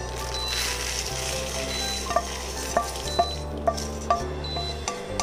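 Idli podi spices sautéed in a pan until golden, a steady close sizzle and fry with a few sharp clinks of a stirring spoon against the pan, no voices.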